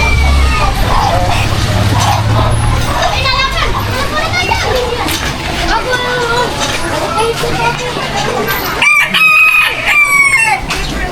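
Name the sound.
bantam rooster crowing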